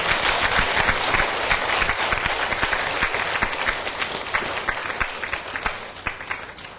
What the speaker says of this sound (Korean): 이제 박수 한번 쳐줘야지요